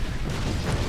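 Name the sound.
grenade explosion in video game Warhammer 40,000: Space Marine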